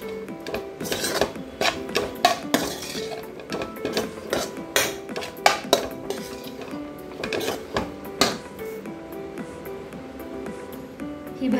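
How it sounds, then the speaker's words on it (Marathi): Grated ridge gourd being stirred in a cooking pan for a Maharashtrian dodka bhaji, with repeated close metallic scrapes and knocks of a spoon against the pan in an irregular rhythm. "हा किसलेला दोडका आहे तो मी टाकला आणि हे परत असं मिक्स करून घेणार आहे."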